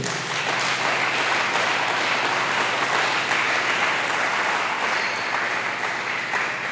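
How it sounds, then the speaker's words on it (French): A church congregation bursts into sustained, dense applause that fills the room steadily for several seconds, loud and continuous with no speech over it. "Acclamons le Seigneur notre Dieu."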